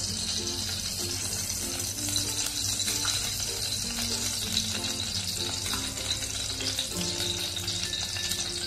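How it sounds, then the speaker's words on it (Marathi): Ghee heating in a kadhai gives off a steady, crackling sizzle, close and even throughout, with faint scattered pops and a low background hum beneath it. "आपण तूप घालून घेऊया"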